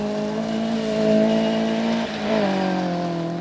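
An 8-valve Vauxhall Astra rally car in the 1400 class on the Cambrian Rally revs hard, with its engine note climbing, dropping briefly at a gear change and then pulling on, loud and close.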